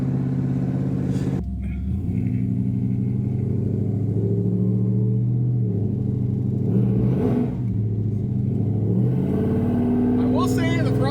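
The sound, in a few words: Volvo C30 car accelerating through second gear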